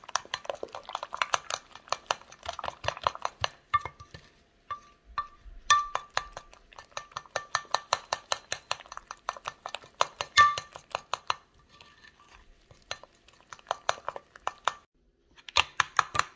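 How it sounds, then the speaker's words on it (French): A spoon stirs chicken batter liquid in a bowl for fried chicken, giving a steady run of quick clinks and scrapes against the dish with short pauses between bursts, close and fairly loud. "Je vais venir maintenant mélanger tout ce liquide là"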